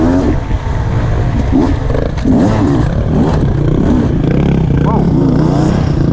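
Carbureted 2022 Beta 300 RR two-stroke dirt bike engine revving hard on a trail ride, loud and close with rising and falling throttle blips, a rider talking over it.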